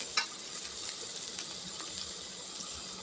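Chicken being stir-fried for a Thai spicy stir-fry in a home kitchen, a steady sizzle and scraping of the pan with a sharp clatter near the start, no talking.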